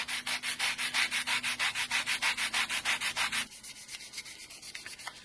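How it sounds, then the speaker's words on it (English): Rhythmic back-and-forth sanding of a flat metal spring with a soft foam sanding block, about two dozen even scrubbing strokes, then quieter lighter rubbing at the end. "I just use this sanding block, which is a foam based sanding block"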